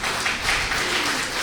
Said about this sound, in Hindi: आप सब एक बार फिर तालियां अगर आप अपने लिए बजा देंगे